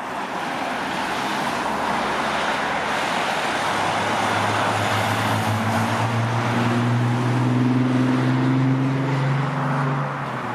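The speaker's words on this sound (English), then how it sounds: "trying to cycle down here with all this traffic" Road traffic streams steadily past a busy roadside beside a coastal cycling trail, a continuous loud rush with engines building and a heavier vehicle's low drone swelling through the middle, no voices.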